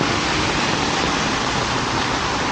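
Floodwater rushes in a steady, dense roar that fills the whole short stretch without any break, close and loud and heard alone.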